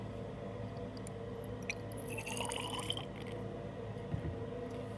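Water being poured into ethylene glycol in a lab container, a soft burst of trickling and splashing liquid rising in the middle, with faint taps before and after over a low room hum.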